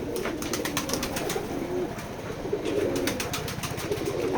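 Pigeons of mixed local and foreign breeds coo steadily on a pigeon farm, a dense, continuous chorus of low throaty calls with a few sharper bird notes over a constant background and no talking.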